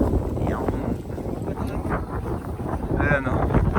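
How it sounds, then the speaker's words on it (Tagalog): Strong wind buffets the microphone on the muddy Mount Pulag trail, a steady roaring rumble with gusts that rise and fall and faint voices of a crowd of hikers in the background. "Grabe yung hangin guys"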